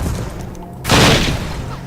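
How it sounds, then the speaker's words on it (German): A grenade goes off in the video game Übersoldier, a single loud burst that swells suddenly and rumbles away over a couple of seconds, with no voice over it. "Eine Granate."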